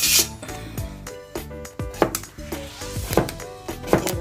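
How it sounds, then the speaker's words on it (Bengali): Knife chopping sweet pumpkin into small thin pieces on a cutting board, a series of sharp, close, irregularly spaced thuds and taps, with no talking. "এই যে আম্মু এখন কুমড়াটা কেটে ফেলবে সাইজ মতো।"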